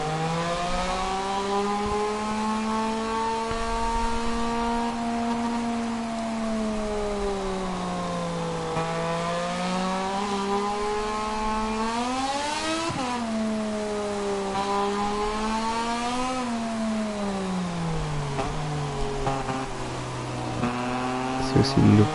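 A Moto2 racing motorcycle engine on a wet, rainy track, revving steadily with rising and falling pitch through shifts, loud and continuous with a voice faintly underneath.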